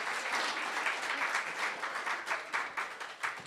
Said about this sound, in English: let's give them one more round of applause for all of them